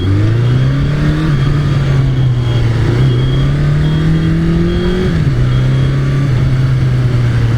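A Suzuki GSX400F Katana, a 400 cc motorcycle from the 1980s, filters through traffic. Its engine drones steadily and loudly, with its pitch climbing and then dropping between gear changes. No one speaks.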